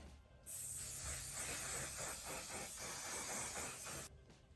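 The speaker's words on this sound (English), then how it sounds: "I'll spray" Makeup setting spray hisses from a bottle in one long, steady, close burst lasting about three and a half seconds, then cuts off abruptly.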